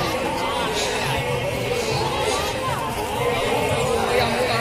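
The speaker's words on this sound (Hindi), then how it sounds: "पब्लिक बहुत है, काफी भीड़ है यहाँ तो।" Dense crowd chatter and hubbub at the Narmada Gau Kumbh yajna gathering in Jabalpur on a busy Saturday, a steady wash of overlapping voices close around with no single voice standing out.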